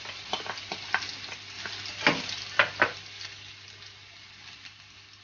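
Garlic sizzles and fries in a pan for chicken pasta, giving a soft steady crackle broken by a few sharper pops and stirring scrapes. The sound is close and fairly quiet, with no talking.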